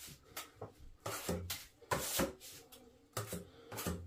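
A trowel drags lightweight joint compound across a water-damaged drywall ceiling in a final pass, giving repeated rasping scrapes in short strokes, close and fairly loud with brief pauses between.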